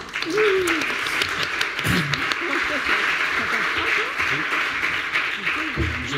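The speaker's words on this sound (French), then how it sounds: "Je crois qu'on peut les applaudir." Applause from an audience at the close of a conference talk, a steady moderate patter of clapping with brief voices heard over it throughout.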